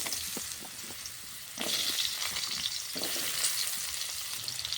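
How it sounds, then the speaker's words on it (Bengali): Cut kohlrabi drops into oil left over from frying prawns and sizzles with a steady hiss that swells in bursts as pieces are added and stirred; no one speaks. "মাছ ভাজা তেলটা থেকে গেছে, সেই তেলে আমি দিয়ে দিচ্ছি এখানে ওলকপি কেটে রেখেছিলাম"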